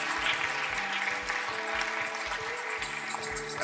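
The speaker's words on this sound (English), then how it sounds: "Another round of applause, please, for that all-female panel" Sustained applause for an all-female panel at a business forum, steady crowd clapping heard throughout, with a low rhythmic thudding of background music underneath.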